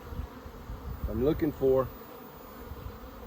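Honeybees hum steadily in an opened beehive full of drones and drone brood, a dense close buzz running throughout while someone talks briefly over it.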